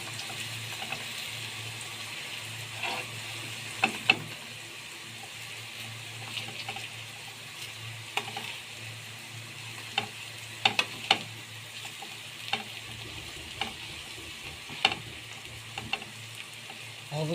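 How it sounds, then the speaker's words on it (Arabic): Tilapia fish frying in a pan gives a steady close sizzle throughout, with occasional light clicks and taps of utensils scattered across it and no talk. "بصوا السمك اتظبط اهو من فوق ومن تحت، اتشوى كويس جدا"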